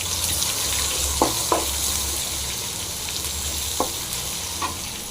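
Crushed garlic and curry leaves fry with a steady, close sizzle in hot oil while being stirred, with a few sharp scrapes of a spoon against the pan rising out of the hiss; no one speaks.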